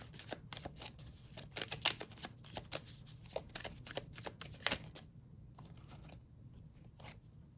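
Tarot cards shuffled and laid down during a reading, a quiet run of crisp riffling flicks and soft slaps in irregular bursts, with short pauses and no talking.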